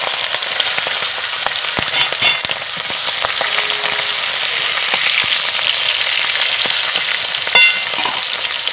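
Pieces of pangas fish fry in hot oil with a steady, close crackling sizzle, sharp pops and spits breaking through now and then.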